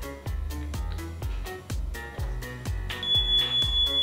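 A household smoke alarm sounds during a house fire, a loud, insistent series of repeated electronic beeps at a steady rhythm, with a high tone joining in near the end.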